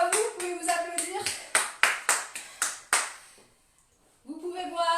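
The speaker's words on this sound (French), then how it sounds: "Bravo à vous, vous pouvez vous applaudir." A group finishing a live Total Body workout class claps for itself, a short run of sharp, separate hand claps that thins out and stops. An instructor's voice comes before and after it.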